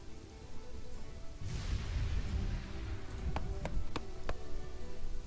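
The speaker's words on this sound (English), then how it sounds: "Uh-oh, it's raining." Rain from a medieval city-building game: steady soft hiss of rainfall with a low rumble, followed by several sharp ticks near the end, quiet and with no talk.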